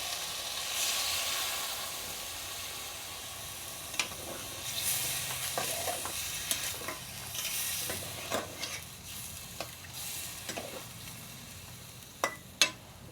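Fried chalta simmers in a pan after mustard paste and water are added, with a soft continuous hiss and sizzle and occasional sharp taps of the spoon against the pan, fairly quiet and close, with no talking.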